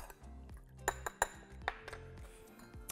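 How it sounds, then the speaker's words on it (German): A utensil clinks and taps against a bowl several times in an uneven rhythm while tamari, lime juice and paprika are stirred together, close and fairly quiet. "Alles zusammen vermengen."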